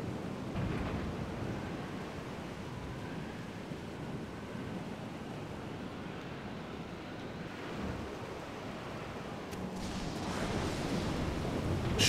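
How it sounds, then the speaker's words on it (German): Storm at sea in the Medieval 2 Total War video game, a continuous low rumbling wash of wind and crashing waves, steady and moderately loud with a swell and gust building toward the end. "Ein Sturm, das Meer."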